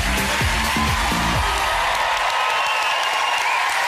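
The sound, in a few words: audience applause and cheering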